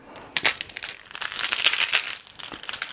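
Chaos tokens from Arkham Horror third edition drop into a cloth bag and are jostled about, a dense rustling crinkle with a few sharp clicks, close and fairly loud, no voices.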